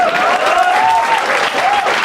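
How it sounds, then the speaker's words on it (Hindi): Audience applause at a stand-up comedy show, loud and steady throughout, with a voice briefly rising above the crowd. "ताली बजाओ इसके लिए।"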